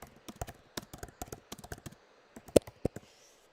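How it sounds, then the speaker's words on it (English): Typing on a computer keyboard into a live chat, a run of close, crisp key taps in uneven bursts, with a short pause and a few sharper clicks near the end. "I'm gonna type that in."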